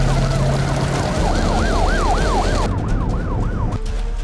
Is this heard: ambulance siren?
yes